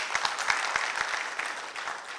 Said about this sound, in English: get a bigger clap for yourself for the great work you have done